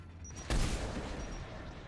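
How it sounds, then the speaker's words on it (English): Rocket fired in the Mass Effect video game, a sudden booming blast followed by a sustained rumbling roar that fades slowly, moderately quiet. "It lets you shoot the rocket this time, at least."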